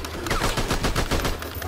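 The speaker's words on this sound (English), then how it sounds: "I'm getting shot up." Rapid automatic gunfire in a video game firefight, a dense, loud stream of closely spaced shots with no pauses.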